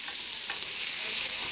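Food sautéing in a pan on a turned-down gas stove gives a close, steady sizzle with faint stirring scrapes, brief and without talk.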